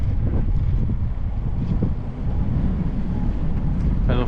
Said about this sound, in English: Man, I hate this wind.